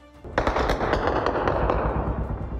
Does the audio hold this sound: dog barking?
no